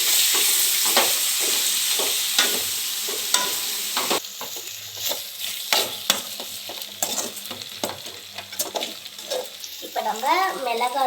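Raw banana pieces sautéing in a pan with turmeric and salt, giving a steady close sizzle with repeated scraping stirs of a spatula throughout.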